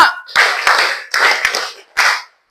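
Several sharp hand claps in quick bursts, a classroom group clapping in rhythm at close range, with voices mixed in and a short silence at the end.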